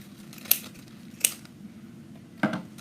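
Scissors trim a ribbon on a small handmade poof Christmas tree with three quick close snips spaced apart, crisp and isolated against a quiet room.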